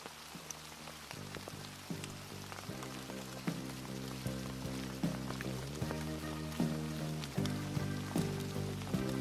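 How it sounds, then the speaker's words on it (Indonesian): Rain pattering on tents at a lakeside campsite during the rainy season, a dense steady patter with sharper drips and taps striking nearby surfaces throughout. "Setelah tenda terpasang semua, hujan pun turun"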